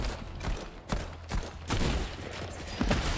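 Gunfire in a video game, a few loud, close blasts spaced irregularly over about three seconds, with a muffled rumble of game sound between them.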